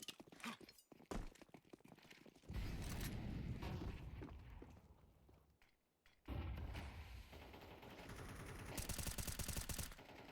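Sustained automatic gunfire spraying through smoke in a professional Counter-Strike match between Liquid and Vitality at Blast Bounty, with dense bursts that pause briefly before the shooting resumes loudly.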